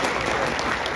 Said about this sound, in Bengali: আপনাদের ভালো লাগলে ওনাকে একটা জোরে তালি দিতে পারেন।